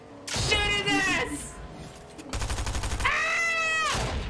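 Rapid bursts of gunfire in the video game Fortnite, a fast rattling volley that runs mid-clip and then continues beneath excited, shouting voices.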